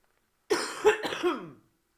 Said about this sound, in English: I've got a cough, excuse me.